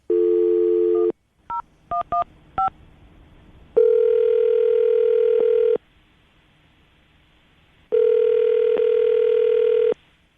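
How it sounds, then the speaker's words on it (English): A telephone line hums with a steady dial tone, broken by a quick run of touch-tone beeps as a number is dialed, then two long ringback tones follow, loud and close, with no voices. "I'm going to dial the phone number right now"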